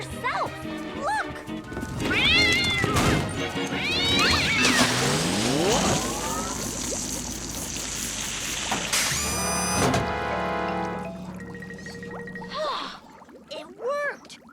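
A cartoon cat in Captain Flamingo meows and caterwauls repeatedly, with rising and falling yowls mixed among busy cartoon sound effects and bursts of voices.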